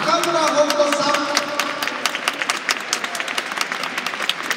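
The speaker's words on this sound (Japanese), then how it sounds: "拍手をお願いください" A crowd at a Fukuoka versus FC Tokyo talk show claps as an HKT48 ambassador is introduced; the applause starts under a speaking voice, then thins into scattered, individually distinct claps that gradually fade.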